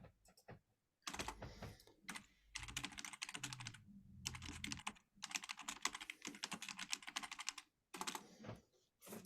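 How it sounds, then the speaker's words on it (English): Rapid typing on a computer keyboard in an indoor office setting, coming in several bursts of quick, close key clicks separated by short pauses, with no voices over it. "I can't talk and type at the same time"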